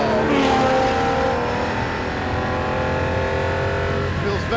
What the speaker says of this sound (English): How very British to go endurance racing with a great big V12.